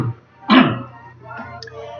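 A single short, gruff throat clearing from a person reading a book aloud, close and fairly loud, followed by quieter room sound and faint murmuring.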